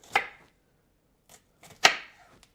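A knife chops onions during a late-night meal prep, two sharp separate cuts about a second and a half apart with a faint tap between them, close and fairly loud against quiet.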